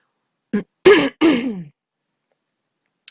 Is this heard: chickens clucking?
no